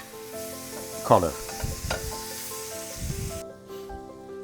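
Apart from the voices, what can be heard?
sun-dried tomato sizzling in pan with garlic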